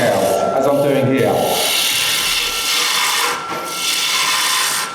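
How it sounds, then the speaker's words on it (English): A roughing gouge cuts wood spinning on a lathe, giving a steady rasping, scraping shave that rises and falls as the tool moves, with a brief voice early on. "Now, shaping with a roughing gouge, as I'm doing here."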